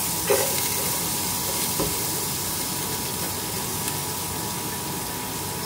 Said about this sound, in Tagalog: Gisa na natin yung mga gulay.